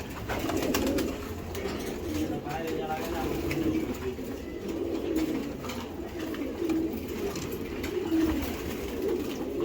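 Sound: racer pigeons cooing

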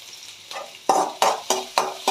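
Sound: green chillies and ginger sizzling as they are stir-fried

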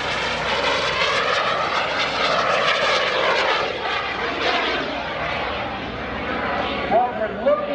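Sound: small airplane engine during aerobatic turn

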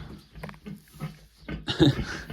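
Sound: pig grunting

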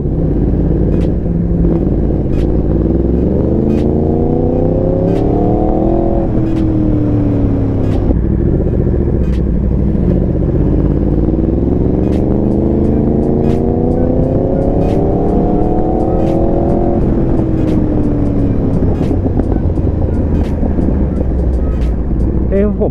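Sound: Yamaha R1M motorcycle accelerating

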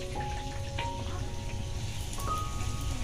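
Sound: frying poa pitha rice cakes in oil

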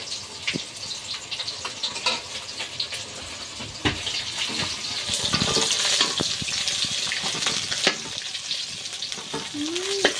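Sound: big rupchanda fish pieces frying in oil

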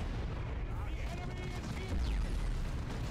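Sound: grav gun firing in the video game Dawn of War 2

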